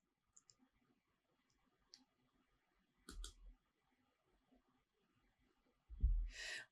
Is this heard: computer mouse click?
yes